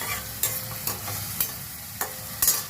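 Salted onions fry in a pan with a steady low sizzle while a spoon stirs them, scraping the pan in five or six sharp strokes spaced about half a second apart. The sound is close and there is no talk.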